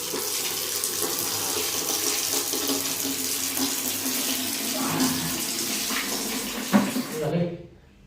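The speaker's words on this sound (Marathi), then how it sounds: "तोंडावर पाणी मारून घेतो पहिले." Water runs from a tap and splashes steadily for several seconds as a face is washed, with a few louder splashes near the end before it stops abruptly.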